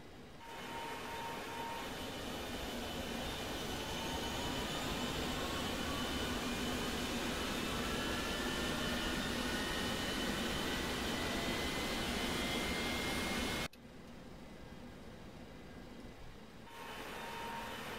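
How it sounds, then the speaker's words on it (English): A Boeing 727 jet engine in the X-Plane 11 flight simulator spools up with a steady roar and a slowly rising whine, then the sound drops off abruptly near the end. "finally let's start up engine number 3"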